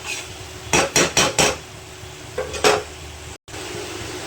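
Diced potatoes being sautéed and stirred in spiced oil in a pan, with a burst of four quick spoon scrapes and clanks followed by two more, over a low background sizzle.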